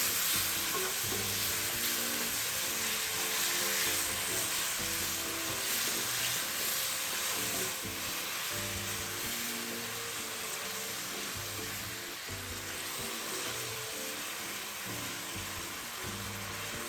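Pork ribs with soy sauce are stir-fried in a wok, a braise that later gets potatoes, with a continuous sizzle and repeated scraping strokes of the spatula in an irregular rhythm, close and steady throughout.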